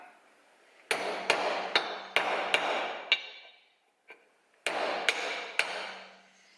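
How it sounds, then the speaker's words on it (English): A copper hammer taps a bearing into a clean socket during a Lambretta TS1 two-stroke engine rebuild: about ten crisp metallic knocks in two bursts with a short pause between, each ringing briefly, close and fairly quiet. "Copper hammer."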